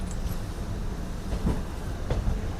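A DEMU passenger train running from Secunderabad to Siddipet at modest speed, with a steady low rumble of the carriage and a few faint clicks from the rails, heard from on board.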